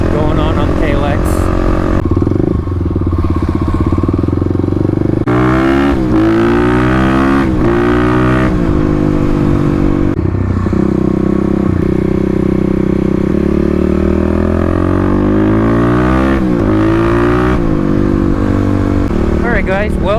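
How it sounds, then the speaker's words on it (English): A Stage 3 Kawasaki KLX351 dual-sport motorcycle revs loudly and close, its engine note climbing and falling in repeated sweeps, with brief sharp breaks that fit exhaust pops between pulls. "Starting to like these pops here going on the KLX."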